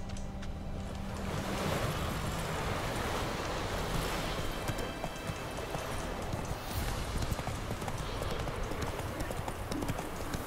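A horse's hooves clip-clop steadily at a trot in the rainy Witcher 3 video game, a continuous rhythmic patter blended with dense rain or surf-like noise.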